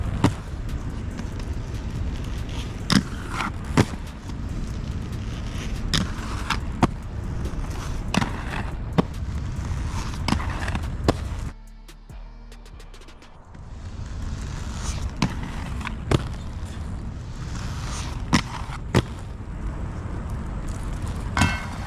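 Hard wheels of roller skates on Create Original CRS frames roll steadily with rubber-washer H-block mounts, a continuous close rumble broken by sharp clacks and bumps, dropping briefly quieter midway before resuming.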